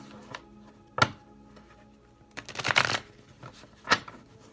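Tarot cards being shuffled close by in several short riffling bursts separated by quiet pauses.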